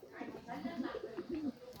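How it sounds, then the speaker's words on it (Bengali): Pakistani Giribaz high-flyer pigeons coo in a series of soft, rounded calls through the clip, close and moderately loud, with a brief faint bright sound near the end. "কবুতরগুলো খুবই অ্যাক্টিভ আর ফ্লাইং গ্যারান্টি ভালো ফ্লাই করাতে পারবেন"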